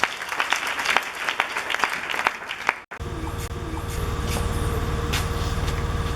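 A church congregation claps in sustained applause, joined partway through by a dense, steady wash of cheering and clapping from the whole room.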